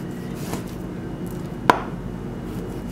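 A single sharp knife chop through vegetables on a cutting board, one crisp cut standing out against a low steady background hum.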